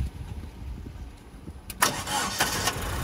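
A car engine cranks and catches, then settles into a steady rumbling idle with a few small revs, close by and without talk.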